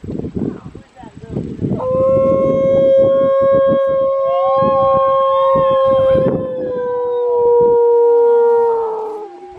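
A red wolf at a wolf sanctuary gives a long, rising and wavering howl that holds steady for several seconds and then slides down. It comes after a stretch of rustling and background sound, and a second fainter voice joins near the end.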